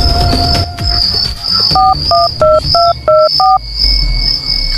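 A telephone keypad dialing an ambulance: six short, evenly spaced touch-tone beeps in quick succession, loud and close, with a steady background whine and no voices.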